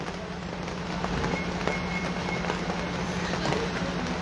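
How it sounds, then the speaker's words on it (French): Steady rain falls at home as a dense, even hiss with soft patters on surfaces, continuous and moderately loud throughout, with no voices. "La pluie chez moi, là, il y a la pluie."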